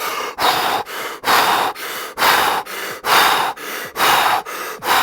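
Deep Wim Hof-style breaths drawn in through nose and mouth, mouth wide open, repeat in a steady rhythm of about nine forceful rushes of air, loud and close, with short pauses between them and no speech.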